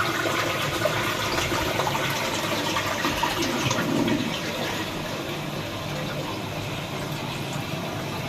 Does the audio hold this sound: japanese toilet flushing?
yes